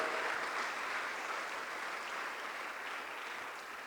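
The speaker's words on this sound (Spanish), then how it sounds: "dele las palmas al Cristo de la gloria" A church congregation claps steadily in praise during worship, a dense, even wash of many hands that stays loud throughout and eases off slightly toward the end.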